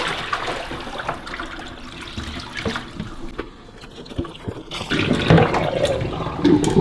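Dirty, coffee-stained water is emptied out of a De'Longhi Magnifica Start coffee machine into a sink, a steady trickling splash that swells into a heavier, louder gush of pouring water near the end.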